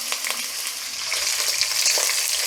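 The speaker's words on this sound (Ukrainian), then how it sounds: "І треба їх так гарненько-гарненько обсмажити до рум'яності." Meat bones frying in a pan for soup-pilaf, a close, steady hiss and crackle of sizzling fat with small spatters throughout.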